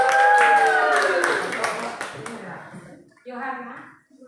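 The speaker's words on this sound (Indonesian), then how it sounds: "Mari kita berikan aplaus" Students receive applause from a classroom audience at a teacher-training session, a short burst of clapping that fades quickly while people talk over it.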